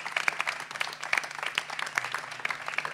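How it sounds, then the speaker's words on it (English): Audience applause at a school music show, a dense spread of clapping hands from a crowd, steady and moderately loud across the whole stretch with no talking. "if we could give a round of applause for all the tech guys, Charlie, Damien"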